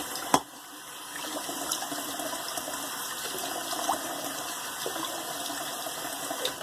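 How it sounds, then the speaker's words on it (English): Running tap water splashing in a steady broadband wash for a cold rinse of the face after shaving, heard close with a few louder splashes and no talking. "I'm just doing a cold water rinse"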